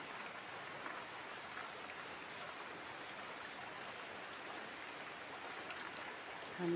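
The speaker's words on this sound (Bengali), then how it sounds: "এই যে ভোরের এই মিষ্টি সুন্দর বৃষ্টি আপনারাও দেখতে পাবেন" Early morning rain falls in a soft, steady patter, faint and continuous with no voices.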